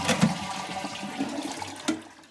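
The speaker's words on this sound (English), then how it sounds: "Do a big flush, empty the whole thing out." A homemade bucket toilet gets a big flush, water rushing and gurgling through for a couple of seconds, close and fairly loud with no talking.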